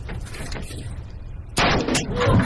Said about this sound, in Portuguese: Ele então puxa o revólver e dá outros vários tiros nela.